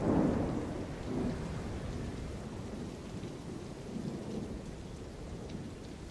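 Thunderstorm over open sagebrush desert: a loud rumble of thunder swells at the start and fades into steady heavy rain hissing on the ground, with a softer second roll of thunder later and no voices.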